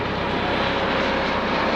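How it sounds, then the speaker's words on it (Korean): A helicopter passes overhead at a seaside location, its engine and rotor wash a steady, loud, broadband roar that holds constant with no speech over it. "말씀드리는 순간 헬기가 지나갑니다."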